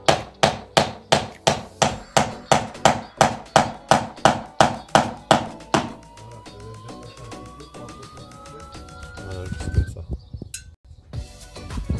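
Stainless steel dome-head ring-shank cladding nails driven by hammer into siding on a tiny house gable, about fifteen sharp, evenly spaced blows up close, followed by quieter handling and knocking sounds.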